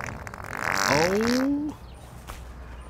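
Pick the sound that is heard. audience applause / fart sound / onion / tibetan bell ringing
fart sound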